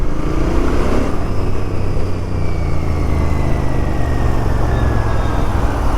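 A Royal Enfield Bear 650 motorcycle on the move, a loud, steady engine drone with strong wind rush, holding an even pace throughout with no pauses.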